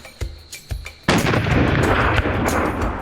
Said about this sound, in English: I've never shot a warthog